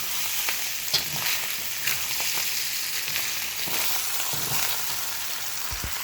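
Wild rice frying with Thai pepper and jumbo lump crabmeat gives a steady, close sizzle throughout, broken by occasional scrapes and clinks of stirring, with no talk.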